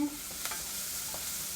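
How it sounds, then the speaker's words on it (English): Shrimp stirred in a hot pan for a New Orleans dish, a short burst of spatula scraping over a steady soft sizzle. "you're going to stir this, I would say probably about 3 or 4 minutes"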